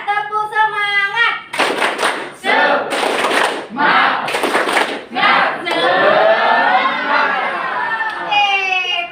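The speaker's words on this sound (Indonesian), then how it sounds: "tepuk semangat" A classroom of children performs the tepuk semangat clapping routine, rhythmic group claps in short bursts mixed with chanting voices and talk.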